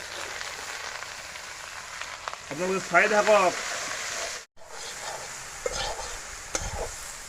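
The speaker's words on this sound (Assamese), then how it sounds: "এই পচলাখিনি ধুনীয়াকৈ এতিয়া কেৰাহীত ভাজি ল'ম আমি" Banana stem frying in a wok and being stirred while cooking a local chicken dish: a steady sizzle with brief stirring scrapes and clatter, and a person speaking over it.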